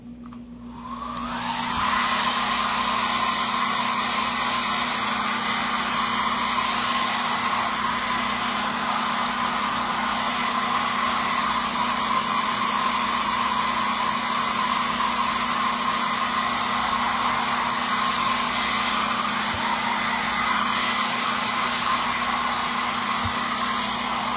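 A hair dryer switches on and blows continuously at a steady whine, drying freshly painted pumpkins for rustic fall decor, close and loud for over twenty seconds.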